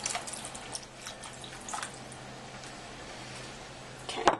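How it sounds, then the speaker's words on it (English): Lentil broth is poured into a pot, a soft close splashing and trickling of liquid with small drips, fairly quiet, ending in a brief clink. "we're also going to add about a cup of the lentil broth"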